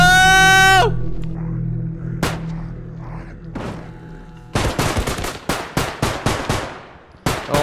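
Gunfire volleys ring out on a zombies video game map. A high whine and scattered thuds are followed by rapid bursts of loud, sharp shots in a rough rhythm that echo close and heavy.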